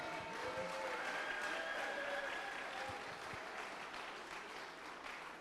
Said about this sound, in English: Let's all give Eli a round of applause.